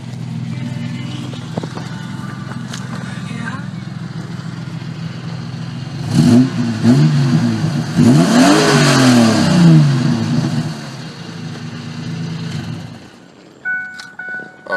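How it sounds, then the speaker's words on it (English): A 1998 car's engine idles steadily, then is revved hard through several rising and falling sweeps before settling back to idle, loud and close with no one speaking. "I'll give it a rev for you."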